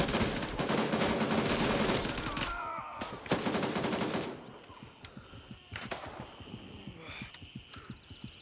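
Enemy gunfire in the military shooter Gray Zone Warfare: a loud burst of rapid automatic shots up front, then scattered single cracks and distant pops over a low rhythmic thumping.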